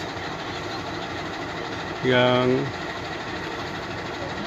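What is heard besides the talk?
train carrying high-speed rail sections leaving the depot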